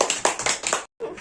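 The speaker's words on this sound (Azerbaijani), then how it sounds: "Alqışlayaq." A group of children and adults clap together at a classroom brain-development activity session, a short burst of rhythmic, close handclaps that stops abruptly, with some voices mixed in.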